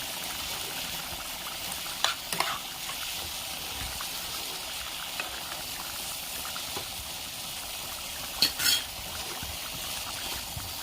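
Fried paneer is stirred into a vegetable curry simmering in a pan, giving a steady bubbling hiss broken by a few sharp clinks of a spoon against the metal.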